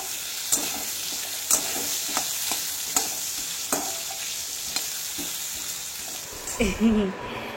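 Potatoes fry in a pan with salt and turmeric, hissing steadily under regular spatula scrapes about once a second. A louder clatter of utensils comes at the end.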